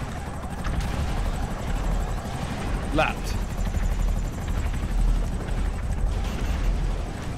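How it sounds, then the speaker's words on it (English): Helicopters in a Sidemen race video game, steady loud rotor chop filling the clip while players talk over it, with a brief whistle-like sweep partway through. "These helicopters are indestructible, by the way."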